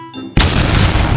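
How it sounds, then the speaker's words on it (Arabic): A single loud boom of an iftar cannon firing as a cartoon sound effect, a sudden blast after a brief tonal lead-in, followed by a sustained rumbling roar that does not die away. "مدفع الأفطار ضرب"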